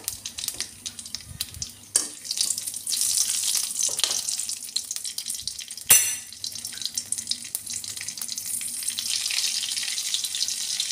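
Two green chillies fry in hot oil for a hilsa fish curry, a steady close hissing sizzle with a couple of sharp pops and clatters partway through, no voices.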